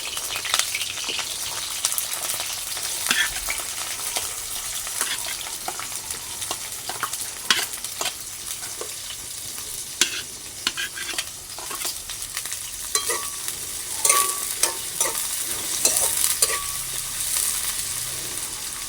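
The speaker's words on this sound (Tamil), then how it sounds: "இப்போ நான் வந்து முதலாவது பச்சை மிளகாய் போட போகிறேன் அப்படியே நாங்கள் கம்பா வெங்காயத்தை போடுவோம்" Green chillies and onions hit hot oil for a tomato curry, crackling in a steady close sizzle while a spoon stirs and scrapes the pan with irregular clinks throughout.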